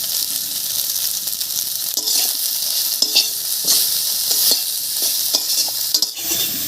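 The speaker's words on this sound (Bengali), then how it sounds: "তেল গরম হয়ে গেছে সয়াবিনটার জলটা ঝরিয়ে রেখেছিলাম এবারে ভেজে নেব" Soybean chunks, drained of water and sprinkled with salt and turmeric, fry in hot oil. A bright, steady sizzle is broken by frequent scraping knocks from stirring, close and loud, with no voices.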